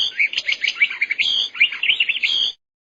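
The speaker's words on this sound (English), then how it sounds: "bird," A small bird chirps and twitters in quick, bright, closely spaced notes, loud and near, for about two and a half seconds before cutting off to silence.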